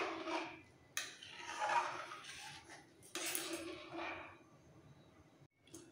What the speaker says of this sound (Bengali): এবার একটাই কাজ, কন্টিনিউ কিন্তু নাড়তে হবে